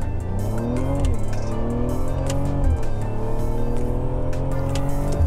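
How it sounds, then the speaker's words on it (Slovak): A Mercedes-AMG GLE 53 4MATIC coupé with a flap exhaust drives hard with a steady, loud engine drone and rising and falling pitch through shifts, with no distinct pops standing out. "Krásne to strieľa z tých výfukov."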